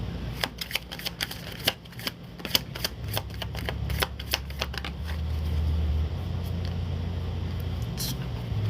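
Tarot cards shuffled by hand in a rapid run of crisp riffling snaps and flutters that thin out over the clip, against a low background hum.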